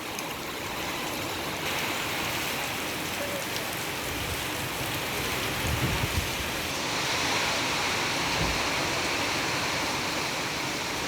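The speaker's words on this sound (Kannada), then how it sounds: "ನೀರು ಹರಿಯೋ ಶಬ್ದ ಕೇಳಿ" Rushing runoff and streams swollen by heavy monsoon rain in Chikkamagaluru, a steady broadband roar of flowing water with rain hiss, continuous and fairly loud throughout, no voices.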